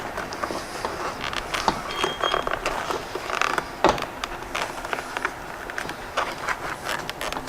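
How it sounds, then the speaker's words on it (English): A door card panel is being pried off a Mazda Miata door, giving a run of plastic creaks, clicks and snapping clips at close range, irregular and bursty throughout. "Let us take the card right off."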